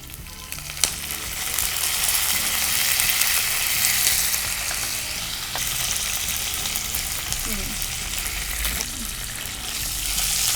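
Curry leaves frying in hot oil for South Indian patrode give a loud, steady, close sizzle with crackling spatter, and a faint voice surfaces briefly.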